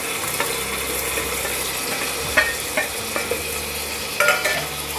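Chopped onions and tomatoes fry in a pan while being stirred, producing a loud, close, continuous sizzle with spoon scrapes and knocks against the metal.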